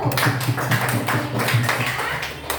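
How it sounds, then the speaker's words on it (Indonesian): Students in a religious-education classroom clap for the first group, a brief steady patter of hand claps throughout, moderately near and fairly soft. "tepuk tangan untuk kelompok 1"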